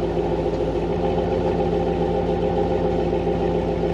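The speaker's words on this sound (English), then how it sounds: "it's got a very nice, smooth idle" A car engine idles smoothly and evenly after replacement of its MAF and O2 sensors, which fixed lean codes P0171 and P0174: a steady low rumble with a soft regular pulse throughout, no voices.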